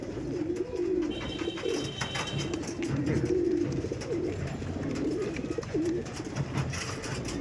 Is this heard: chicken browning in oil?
no